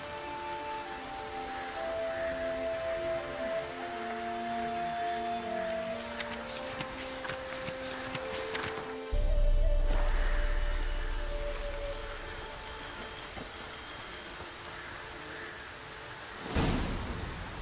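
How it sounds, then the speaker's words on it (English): Steady, heavy rain pours down in the video game The Witcher 3: Blood and Wine with a constant hiss, joined by a deep rumble partway through and a brief loud burst near the end. "Proper downpour this is."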